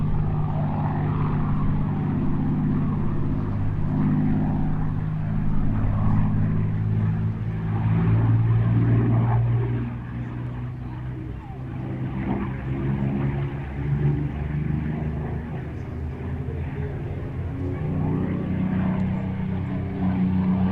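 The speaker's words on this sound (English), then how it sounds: "Parky Parkinson and Charlie Brown just about to get airborne" Spitfire propeller engines run steadily on the ground ahead of take-off, a continuous droning rumble at moderate distance with some swelling and easing in level over the span.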